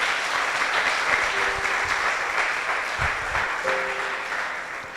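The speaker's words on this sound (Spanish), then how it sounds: "¿Cuántos le dan un fuerte aplauso al Espíritu Santo de Dios?" A church congregation breaks into loud, sustained applause that fills the room steadily from start to finish, with a brief sung or spoken tone rising faintly above the clapping.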